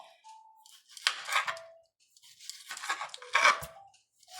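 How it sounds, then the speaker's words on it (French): Knife cutting tomatoes into slices on a cutting board while making a vegetable tian, a few close clattering strokes in two bursts with brief pauses, no voices. "Et ensuite, je vais venir couper mes tomates."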